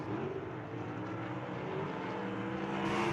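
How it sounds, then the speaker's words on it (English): Sprint cars race around the dirt track at Bubba Raceway Park during the USAC Winter Dirt Games, a continuous distant engine drone that holds steady and builds slightly toward the end, with no voices over it. "Carson Short out here, the number 21 car, ripping his way around."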